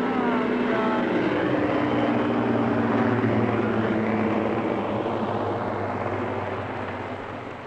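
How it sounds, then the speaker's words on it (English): Helicopter flying over a beach where a flock of birds is gathered, a steady loud rotor and engine drone with harmonic whine that holds close throughout and begins fading slightly at the end. "This helicopter is going to cause chaos."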